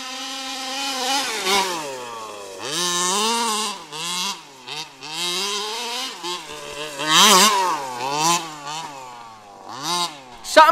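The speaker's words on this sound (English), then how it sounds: "Something cool about running a gas-powered machine, though. They're fun. They make a lot of noise, though" A gas-powered HPI Baja 5B RC car's small two-stroke engine buzzes and whines at close range, revving up and down in rapid, uneven bursts with brief drops to idle between throttle blips.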